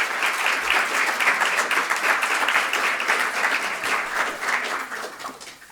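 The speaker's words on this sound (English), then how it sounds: "give a big round of applause" A large crowd at an athletics banquet applauds steadily for several seconds, the dense clapping fading slightly toward the end.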